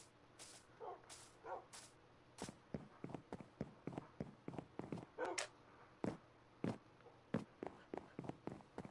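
Dogs barking in the Minecraft video game, a series of short sharp yips and barks repeating irregularly throughout, fairly close, with no talk over them.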